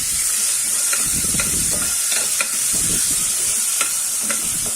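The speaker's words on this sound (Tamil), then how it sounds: "வெங்காயம் நல்லா கோல்டன் ப்ரௌன் ஆகிற வரைக்கும் வதக்கிக்கலாம்." Sliced onions frying in hot oil for a pressure cooker kuska biryani: a loud, continuous close sizzle with repeated scraping stirs of a spoon against the pan, and no talking.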